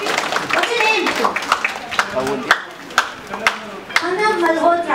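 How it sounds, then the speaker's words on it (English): Scattered, sharp hand claps from an audience at a business model workshop break through over ongoing classroom talk, with a few louder claps near the middle and end. "A round of applause here"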